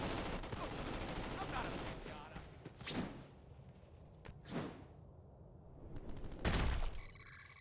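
Gunfire in Crackdown 2, heard as a few sharp, separate cracks and whooshing shots spread across the scene over a busy, noisy game background, with a voice talking in places.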